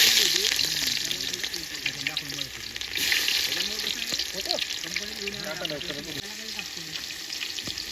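Onions fry in a pan over an outdoor cooking fire, giving a steady sizzle with stirring scrapes, while voices talk over it throughout.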